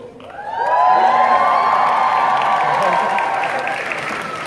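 Convention fans at Kawaii Kon 2017 break into loud applause and cheering, a dense wall of clapping with whoops and shouts that swells quickly and holds steady.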